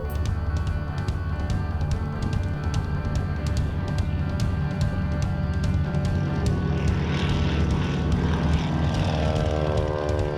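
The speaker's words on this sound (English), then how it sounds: "it was time for takeoff" Propeller aircraft taking off, its engine a loud, steady droning roar with a throbbing, rhythmic beat that builds throughout.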